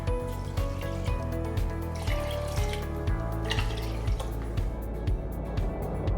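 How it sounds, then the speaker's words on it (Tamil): Four cups of water are poured onto washed rice for ven pongal, a close, steady trickle and splash with repeated soft drips in a quiet kitchen. "இந்த அரிசிக்கு நான் 4 கப் தண்ணி ஊற்ற போகிறேன்."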